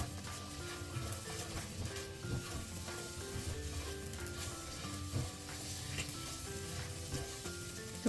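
Sliced onions lightly frying in a pan with a little sugar and salt, a soft continuous sizzle with occasional stirring scrapes, close and fairly quiet, no voices.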